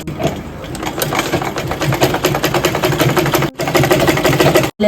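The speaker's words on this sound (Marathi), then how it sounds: "आता आपण पट्टीला शिलाई मारून घेऊयात" A sewing machine runs at close range, stitching a fabric strip onto a baby quilt in a fast, steady mechanical whir with a brief pause near the end.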